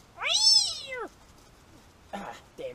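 A cartoonish cat character in a VR video game lets out a long, rising-and-falling meow, followed after a pause by two shorter meows, loud and close with no talking over it.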